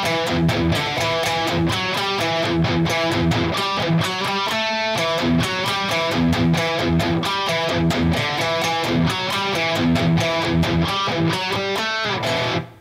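A distorted electric guitar plays the second ending of the riff from a song, a fast, driving, tightly chugged pattern that stays loud and continuous throughout and ends abruptly, with no one talking.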